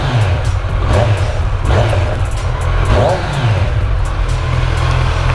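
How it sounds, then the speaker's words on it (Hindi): A Kawasaki Ninja superbike engine revs at a showroom, loud and close, with repeated throttle blips rising over a deep rumbling idle. Voices are faintly audible beneath it. "रेव करते हैं और इसका साउंड सुनते हैं।"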